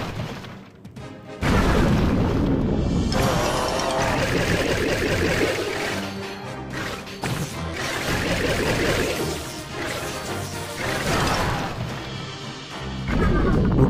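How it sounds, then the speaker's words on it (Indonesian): Repeated booming explosions from bombs blasting skeletons in the Clash of Clans video game, loud and dense with crashes and game effects layered over a sustained roar for most of the stretch. "kita pancing dulu skeletonnya pakai bom ya, biar nanti ketika meledak skeletonnya juga mati."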